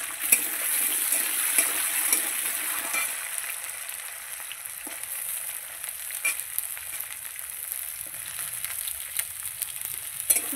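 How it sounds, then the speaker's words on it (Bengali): Taro corms (gaati kochu) fry in hot oil in a pan, a bright continuous sizzle up close with occasional stirring clatter and scraping, strongest at the start and settling slightly lower afterwards, no talking. "আগে আমি গাঁঠিগুলো ভালো করে লাল লাল করে ভেজে নেব"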